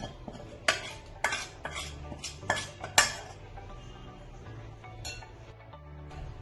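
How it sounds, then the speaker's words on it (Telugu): Fried chicken pieces being mixed in a metal pan for chicken pickle, a series of sharp spoon-on-pan clinks and scrapes in the first half, then softer stirring and shuffling, no voices. "ఇలా బాగా కలుపుకోవాలి."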